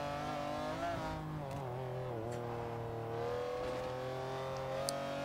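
A sports car in the racing game Forza Horizon 2 revs steadily at high speed on a curvy road, its engine note climbing and holding through third gear, loud and continuous with no talk.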